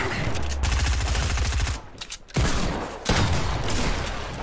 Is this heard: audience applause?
no